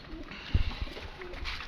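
A Lakha pigeon gives a short, soft, low coo of a few quick throaty pulses, faint against quiet outdoor background noise.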